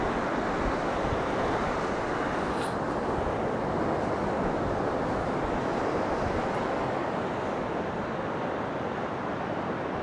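Steady, broad roar of winter sea surf washing onto the shore at Kumköy near the Evrenseki river mouth in Turkey, continuous and fairly loud, with wind buffeting the microphone throughout.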